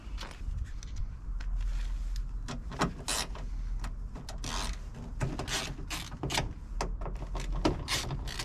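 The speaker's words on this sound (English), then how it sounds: "Undo these screws." Screws being undone on the door panel of a Range Rover Sport L320: a string of short ratcheting clicks, scrapes and creaks at close range, irregular and mechanical, with no talking.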